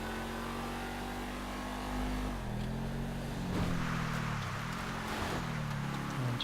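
An Audi RS7 Sportback in the game GTA 5 pulls hard, its engine note dropping at a gear change and then climbing again. The tone is steady and moderately loud, with no talk over it.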